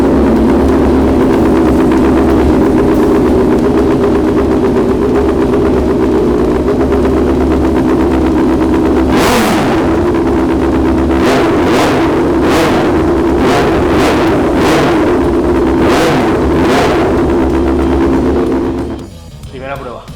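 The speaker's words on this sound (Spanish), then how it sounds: "arranco la moto, no vais a oír nada porque la moto hace un montón de ruido" A motorcycle engine runs steadily at idle, a loud continuous low drone, with a series of sharp revving bursts in the second half before the engine cuts off near the end.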